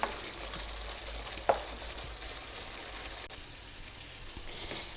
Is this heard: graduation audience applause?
no